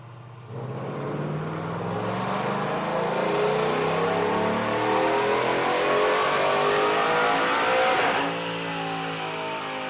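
A Ford F150 Cobra Jet pickup revs hard on dyno rollers in third gear, its engine note climbing steadily for several seconds before easing off, loud and continuous with no talking.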